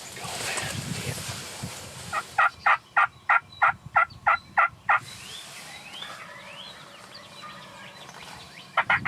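Wild Rio Grande turkeys in Kansas gobble in a rapid burst of about nine loud, evenly spaced calls, followed later by fainter distant gobbles and a final close call, with some birdsong around.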